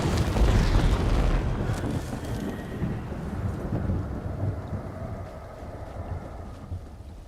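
A loud explosion in The Elder Scrolls Online opens with a heavy boom, then a long rumbling roar that slowly fades over several seconds, with no talk over it.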